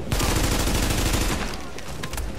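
Dense SMG fire from The Division during a hard-mode Incursion, a loud unbroken rattle of rapid shots that fills the whole stretch and eases slightly toward the end.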